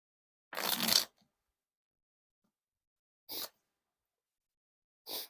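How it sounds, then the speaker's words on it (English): Bicycle Deep Forest playing cards riffle shuffled in three quick bursts, a longer papery flutter followed by two short crisp riffles, close and clear with silence between. "And now time for the riffle shuffles or bridge shuffles."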